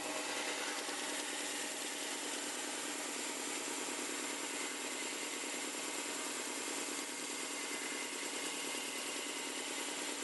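A guitar nut is ground at an angle, giving a steady, faint, hissing rasp that runs without a break and has no talk over it.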